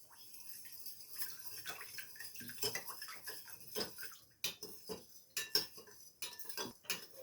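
Salt being stirred into vinegar with a metal utensil in a container for pickling stuffed red capia peppers, giving quick clinks and scrapes with some watery sloshing, close and fairly quiet.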